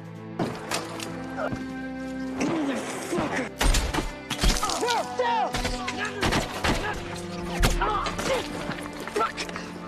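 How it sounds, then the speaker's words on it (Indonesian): Bursts of gunfire crack out in clusters amid a noisy war-film battle mix set in Afghanistan, with sharp impacts and whooshing sounds layered over a tense background. "Satu persatu tembakan musuh berhasil melukai mereka."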